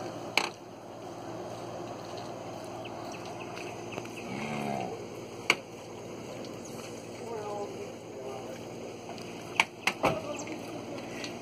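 Cattle being moved in a corral give a low moo amid a quiet outdoor farm background, with a couple of sharp knocks and clatters, and people talk intermittently nearby.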